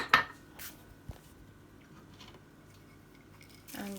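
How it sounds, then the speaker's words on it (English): Oats and nuts stirred together in a pan for honey flapjack bites, with quiet scraping and clinking of a utensil, a couple of sharper knocks, and soft rustling between them. "Now you need to add the oats and nuts and mix well."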